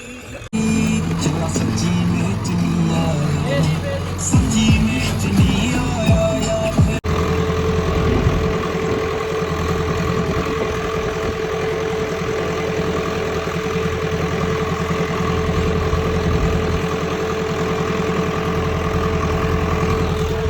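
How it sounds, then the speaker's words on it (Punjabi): A steady tractor engine drone runs throughout a field ploughing, low and continuous, with some clattering and handling noise in the first few seconds before settling into an even idle. "ਹੁਣ ਚਲਾਉ ਮੈਂ ਟਰੈਕਟਰ"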